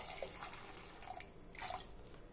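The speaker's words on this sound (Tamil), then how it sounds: "பருப்பு மூழ்கிற அளவுக்கு தண்ணி ஊற்றிட்டு" Water poured into a pressure cooker holding lentils for okra sambar, a steady trickling and splashing pour at close range with a few brighter drips, no talking.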